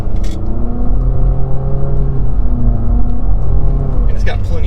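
A 2020 Infiniti QX50 with a CVT pulls away from a stop, its engine droning loudly in a smooth, steadily held tone, with a short burst of cabin noise near the end.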